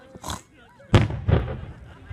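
Loud booming bursts of fireworks go off in quick succession, a sharp blast followed by rumbling pops, with people talking nearby.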